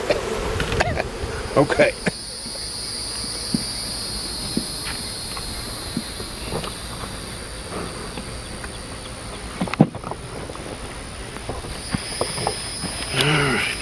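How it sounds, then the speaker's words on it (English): Honey bees hum in a thick, continuous buzz around an open hive during a late-May inspection with smoke, close by, with a few thumps and clicks and a brief spoken word. "Lots and lots of bees."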